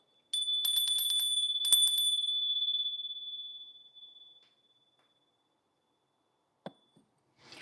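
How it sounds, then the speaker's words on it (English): A bell is struck a couple of times in quick succession, ringing bright and close, then decays in a long fading tone; a sharp knock follows and a voice starts at the end. "Let's ring that bell."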